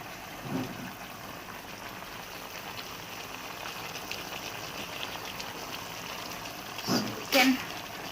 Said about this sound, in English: And now it's boiling.